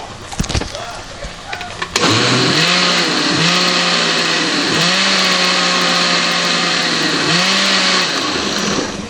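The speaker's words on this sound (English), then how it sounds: "I'm going to give that one more whirl in the blender," A blender whirs loudly after a brief clatter, its motor pitch dipping and recovering several times as it chops sofrito.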